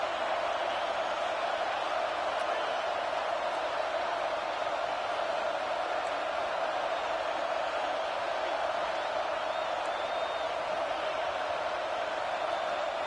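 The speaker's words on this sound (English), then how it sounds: "this home crowd is fired up and ready to make a difference today" Home stadium crowd in the College Football 26 video game, a steady, even wash of crowd noise that holds at a constant moderate level throughout without distinct peaks.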